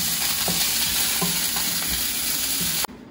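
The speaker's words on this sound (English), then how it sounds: "So we're stir frying yung ating vegetable for our side dish later" Vegetables for a side dish stir-fry in a hot pan with a steady, close sizzle broken by scraping stirs, until the sound cuts off abruptly near the end.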